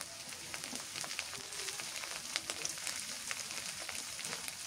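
Green chilies and onion fry in hot oil for a fish curry with a steady, dense sizzle and crackle, close and even throughout with no talk.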